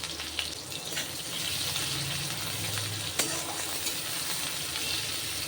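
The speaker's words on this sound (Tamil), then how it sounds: "எண்ணெய் சூடாயிடுச்சு, கடுகு போட்டுடலாம்" Mustard seeds and cumin frying in hot oil in a home kitchen, a steady close sizzle with a few sharp pops as the seeds crackle, no talking.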